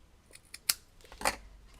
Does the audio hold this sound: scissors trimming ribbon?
yes